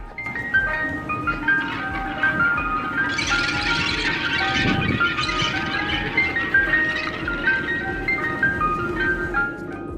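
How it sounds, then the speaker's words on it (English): A tinkling music-box melody plays steadily from an ice cream truck, with a low engine hum beneath and a brief rumble in the middle. "If you hear the jingle of an ice cream truck"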